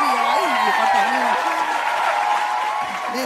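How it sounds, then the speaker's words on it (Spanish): A studio audience claps during a lively Spanish-language variety show, steady applause running throughout while a presenter talks loudly over it. "Ay, caramba, fuerte las palmas para Edison Rubio!"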